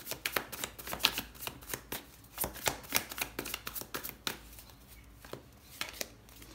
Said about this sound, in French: Maintenant avec le tarot